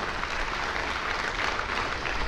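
An audience at a business seminar claps steadily, a dense sustained patter of many hands at moderate volume with no voices on top.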